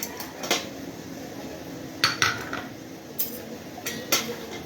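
A large cooking pot being handled in a kitchen preparing a temple food offering at Guruvayur, giving a few sharp metallic clanks and clinks over a low background hum.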